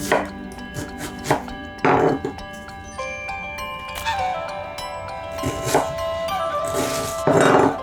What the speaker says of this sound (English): So now we are going to cut the onion. We have to finely chop it.